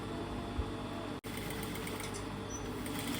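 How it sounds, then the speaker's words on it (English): A sewing machine stitching skirt fabric pieces together, a faint steady mechanical whir running continuously with one brief pause. "I carefully sew them together to make sure the patterns are aligned"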